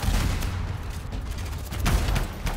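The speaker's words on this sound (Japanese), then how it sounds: "グレネード投擲 マークスマンライフル連射ミサイル発射" Combat in the video game Anthem, with a grenade throw, rapid marksman rifle fire and a missile launch making a loud, continuous barrage of shots and blasts with heavier booms near the end.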